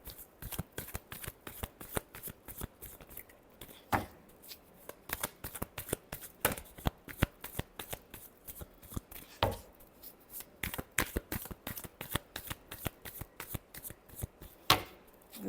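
A deck of playing cards is shuffled at close range during a Capricorn tarot-style reading, with a steady run of rapid riffling and sharp flicks and a few louder slaps against the table, no voice heard.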